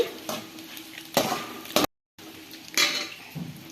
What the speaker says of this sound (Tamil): இப்போ பொட்டுக்கடலை சேர்த்து ஃப்ரை பண்ணிக்கலாம்.